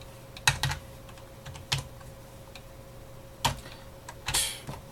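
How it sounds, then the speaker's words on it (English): Sparse keystrokes on a computer keyboard while programming an LED fade, a few isolated clicks and short bursts of taps close up against a quiet hum, with no voices. "I can't type."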